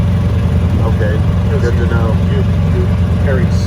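Race car engine droning steadily on a lap of Sebring International Raceway, a loud low rumble heard from inside the cabin beneath people talking.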